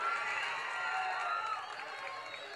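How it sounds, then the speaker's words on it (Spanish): Crowd at a town fair festival in Puerto Berrío applauding and cheering for beauty pageant candidates, a dense steady wash of clapping and crowd noise held at even loudness throughout, with voices mixed in. "Demos un fuerte aplauso a todas las candidatas que participan por el 21º Reinado de la Ecología"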